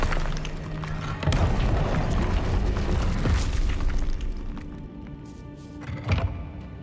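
A Confringo blast spell from a Harry Potter video game erupts in a loud, rumbling boom, followed by a lingering roar and a second burst near the end.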